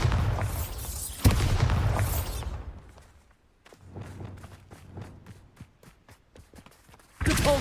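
Bombarda spell blasts in Hogwarts Legacy, a heavy booming explosion with rumbling tail, then a quieter stretch of scattered thuds and impacts before another loud burst at the end, no voices.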